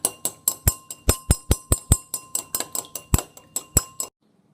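A spoon stirring an oil and liquid mixture in a glass, a rapid run of bright clinks against the glass that stop abruptly, close and alone without talk.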